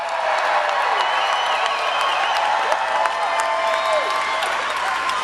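A large crowd at a 2016 Donald Trump rally in Melbourne, Florida, applauds and cheers continuously, with a dense wash of clapping, shouts and whoops.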